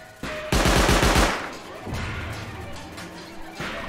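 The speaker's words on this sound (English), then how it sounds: "Oh, turret. Peacekeeper turret." A Peacekeeper turret in the survival game Rust lets off a loud close burst of rapid automatic fire, then thuds and scattered impacts trail off before another short burst at the end, with no voices.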